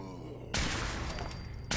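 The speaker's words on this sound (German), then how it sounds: "Sollen wir mal einen Lockschuss abgeben?" A lure gunshot fired in Fallout 4 sets off a loud, sustained burst of gunfire that lasts about a second, preceded by quieter game ambience and followed by another sharp shot.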